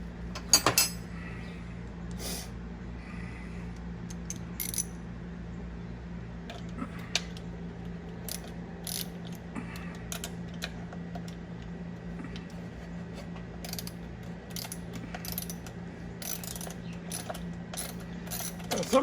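A 1/4 inch ratchet works on a small vacuum diaphragm of a 2100 two-barrel carburetor from a 1973 Mustang 302, making faint rapid clicking pawl ticks in bursts over a steady low hum, without speech.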